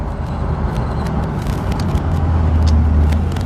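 Car engine droning steadily from inside the cabin while driving, a low continuous rumble that rises slightly in pitch near the end as revs build, with no talking.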